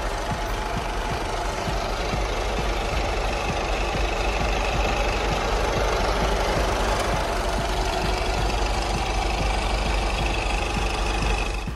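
A 2016 Honda Jazz diesel engine idles up close, a steady rumbling drone with a rapid, even diesel clatter that holds unchanged from start to finish.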